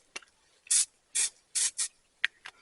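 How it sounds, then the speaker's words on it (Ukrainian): Short bursts from a pocket-sized deodorant aerosol can, carried along on a trip into the woods: four close hissing sprays of under half a second each, with small clicks and rustles before and after and no talking. "карманчик дезодорант, щоб гарно пахнути"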